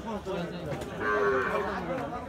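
Shahiwal bull calves at a rural cattle market, with a cow lowing in a drawn-out moo amid the murmur of the crowd and a nearby voice.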